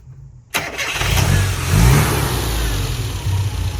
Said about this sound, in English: So if you start the engine now